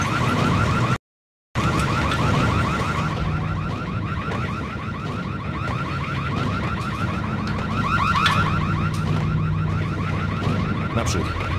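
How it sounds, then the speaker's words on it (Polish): A loud, continuous alarm blares in the video game Max Payne, a rapidly warbling siren tone that repeats steadily for several seconds after a brief cut to silence, with no talking over it. "Alarm bojowy!"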